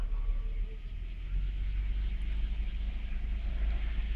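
A Lexus ES300 engine with a dirty MAF sensor is held at about 1,500 RPM, giving a steady, close, low rumbling hum that stays even throughout.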